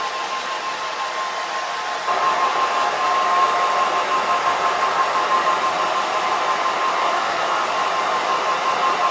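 A hair dryer blows on a watercolour painting, a loud steady whooshing roar with a faint whine that grows a little stronger after a couple of seconds and then holds constant, with no talk.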